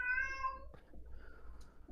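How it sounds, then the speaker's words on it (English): A loud cat lets out a long, drawn-out meow close by indoors, followed by quieter room noise with faint shuffling. "that's a loud cat"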